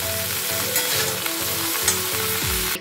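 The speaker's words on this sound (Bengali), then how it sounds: "এখন কড়াইতে সাদা তেল দিয়ে ভাজতে বসিয়ে দিয়েছি।" Frying in white oil in a wok for a cauliflower roast: a steady close sizzle runs throughout with periodic stirring scrapes roughly twice a second, with no one talking.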